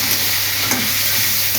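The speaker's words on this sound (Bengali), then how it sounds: "আলুটা একটু ভাজা ভাজা হয়ে যাক" Potatoes fry in a pan with tomato paste, giving a steady loud sizzle with light stirring scrapes throughout, close up and without talk.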